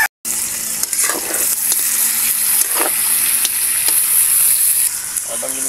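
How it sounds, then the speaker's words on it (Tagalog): Garlic and onions sauté in a hot pan for spicy pork, giving a loud, steady sizzle with a bright hiss that holds across the whole stretch, broken by occasional stirring scrapes. "igigisa na natin."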